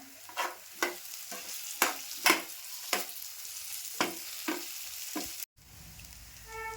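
Curry leaves and green chillies sizzle and crackle in hot oil in a pan during Malvani-style cooking, with a steady fry hiss punctuated by repeated sharp spatula scrapes and stirring knocks, close and fairly loud, ending in a brief cut.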